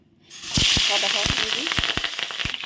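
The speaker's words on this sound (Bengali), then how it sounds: "মাছের ডিমগুলো আস্তে আস্তে দেবো তো ফুটবে একদম ঝড় বৃষ্টির মতো" Rohu fish roe drops into hot oil in a pan and bursts into loud, continuous sizzling, with sharp pops and crackles at irregular intervals close by, and a voice speaking faintly underneath.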